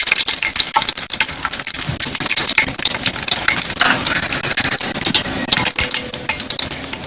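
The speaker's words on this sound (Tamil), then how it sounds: "நல்லா எண்ணெய் நெய்யும் காஞ்சதுக்கப்புறம் மசாலா நல்லா பொரிஞ்சிச்சு" Masala fries loudly in hot oil and ghee for prawn biryani, a close, vigorous sizzle and crackle with repeated stirring scrapes and sharp spattering bursts throughout, no voices.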